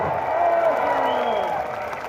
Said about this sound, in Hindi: एक बार ताली बजाए सब मिलके, जोरदार वाली, हाथ ऊपर करके